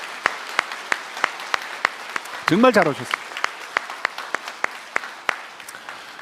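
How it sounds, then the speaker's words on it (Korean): At a church evangelism festival service, the congregation claps in welcome for first-time visitors: sharp, evenly spaced claps in a steady rhythm, fairly close, while someone speaks briefly over them midway. "우리 다시 한번 환영의 큰 박수."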